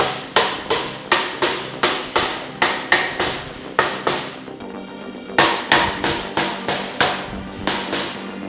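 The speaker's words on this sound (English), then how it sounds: "When in doubt, whip out the hammer." Repeated hammer blows flatten a piece of steel, sharp metallic clangs in quick rhythmic bursts with a brief pause midway, close and loud.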